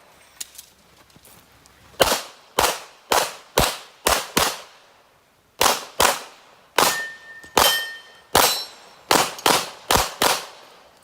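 Rapid bursts of pistol fire at a USPSA match stage, each string of two or three shots ringing sharply off steel targets, loud and close with brief pauses between positions.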